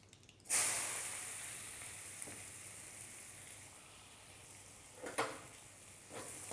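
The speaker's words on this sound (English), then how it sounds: "I am going to add onion which is finely chopped into small pieces." Finely chopped onion, three bulbs' worth, hits hot oil in a pan for a quick gravy, setting off a loud steady sizzle that eases slightly, with a few faint stirring scrapes near the end.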